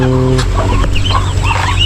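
Chickens cluck close by in short, busy bursts, several birds overlapping against a steady farmyard background.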